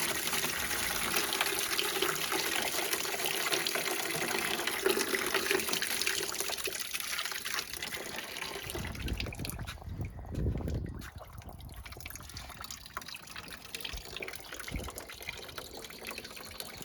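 Coolant drains from the cooling system of a 1986 Ford F-150, a steady trickling, splashing flow of liquid heard up close, thinning and softening partway through.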